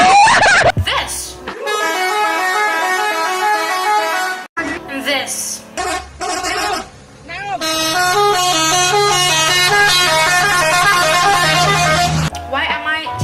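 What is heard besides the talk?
telolet bus horn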